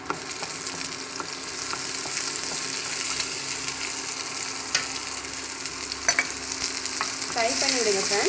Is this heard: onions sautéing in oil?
yes